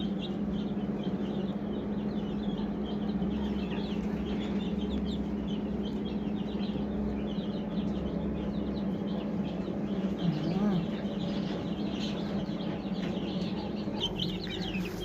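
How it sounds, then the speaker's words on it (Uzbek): Month-old chicken chicks of mixed breeds, including black Australorp chicks, in a poultry pen, giving continuous soft cheeping and peeping over a steady low background hum, with no talking. "Mana bular bir oylik jo'jalar, lekin bir oydan oshgandek ko'rinadi."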